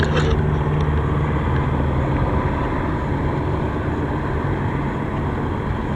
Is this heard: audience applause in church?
no